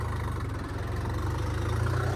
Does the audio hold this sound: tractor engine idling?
yes